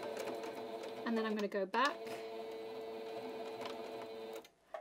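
A domestic sewing machine stitching elastic with the presser foot lowered, running in short steady bursts with a brief pause and restart, close and moderately loud while a person talks over it.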